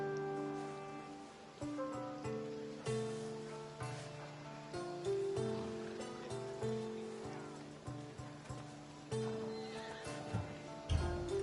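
A horse in the Assassin's Creed Odyssey video game whinnies and snorts amid rhythmic hoofbeats, set against an ongoing musical score with tonal swells and periodic thumps.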